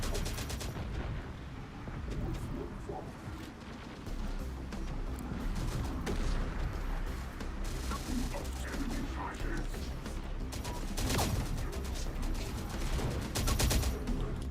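Heavy weapons fire in Terminator Dark Fate Defiance, with recoilless rifle blasts, booms and crashing impacts over a constant roar of battle and machine-gun bursts, under a voice talking throughout.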